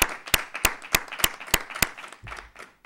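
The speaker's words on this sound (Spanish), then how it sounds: "A ustedes vamos a dedicar hoy el aplauso de la patria agradecida." A small number of hands clap in a regular, sharp rhythm, about eight distinct claps dedicated to medical workers, ending with a low rumble and quiet.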